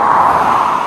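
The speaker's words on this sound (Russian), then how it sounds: "вот эти машины ездят туда-сюда" Cars pass by on a road, a loud, steady roar of nearby traffic with a broad whooshing hum that holds at a constant level throughout the brief stretch.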